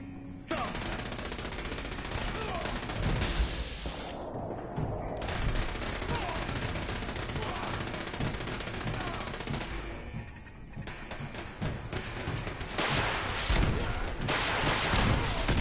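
Sustained, dense gunfire and explosions in Fallout 4: heavy automatic bursts and booming blasts fill nearly the whole stretch, close and loud, with brief lulls between volleys and some speech mixed in.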